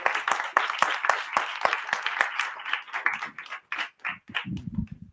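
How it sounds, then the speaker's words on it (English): A small group at an artists' studio gathering claps for the artists Noma and Nana. Distinct individual claps start in a quick, close rhythm, then thin out and fade into scattered hand claps with a low murmur at the end. "if we can get a round of applause once again for Noma and Nana"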